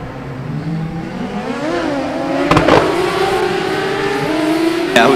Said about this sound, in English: we got a couple of backfires here